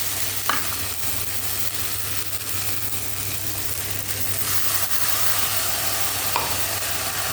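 Spice paste from a mixer-ground masala sizzles and fries in a pan for a Bengali fish roe dish, a steady, close, continuous frying hiss with occasional stirring scrapes.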